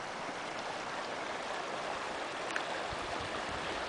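Clear creek water near the Slate River flows steadily, a close, continuous rushing babble with no voices over it.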